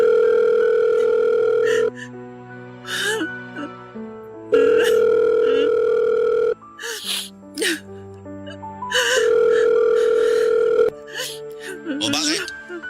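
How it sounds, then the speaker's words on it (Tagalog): A telephone ringback tone sounds while a call is placed, steady tones of about two seconds repeating three times, with other noises and voices in the gaps between them. "Susubukan kong tawagan siya ngayon."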